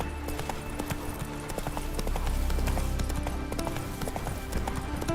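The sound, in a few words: horse Roach's hooves clip-clopping in video game Witcher 3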